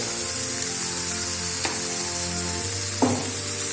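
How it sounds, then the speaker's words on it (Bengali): Data shak greens frying in a pan after a mustard-seed tempering, a steady close sizzle with two sharp clinks of a utensil against the pan. "শাকগুলো দিয়ে কিছুক্ষণ ভেজে শাকটা একটু ভাজা ভাজা করে নিতে হবে"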